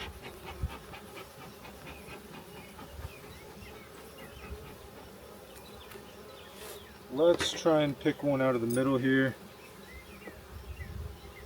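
Honeybees buzz steadily around an open hive during an apiary inspection, a soft continuous drone throughout, with someone speaking briefly partway through.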